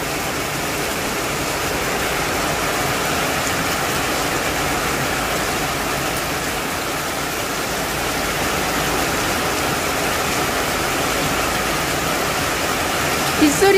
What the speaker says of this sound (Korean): 비가 내리기 시작합니다.